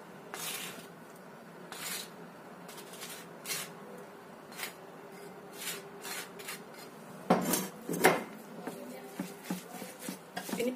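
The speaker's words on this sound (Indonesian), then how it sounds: "Kita aduk sekalian sampai rata." Ground spice paste being stirred into food makes intermittent scraping, rubbing and clinking sounds, soft and close, with a louder cluster of scrapes near the end.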